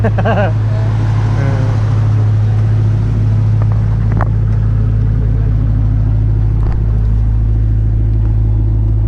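A loud race car engine rumbles steadily nearby at a motorsport park, a deep constant drone with occasional faint clicks over the top.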